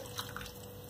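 Water is poured into a pot of undhiyu masala, giving a short, faint trickling splash at low level with no talk over it.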